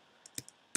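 Computer keyboard typing, a few quiet, sharp key clicks spaced irregularly in under a second, heard alone.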